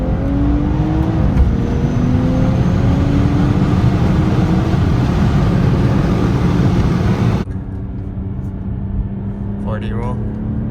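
A BMW F30 with carbon parts drives and revs, giving a loud, continuous engine drone with rising rev sweeps up close, before the noise drops to a quieter cabin rumble near the end.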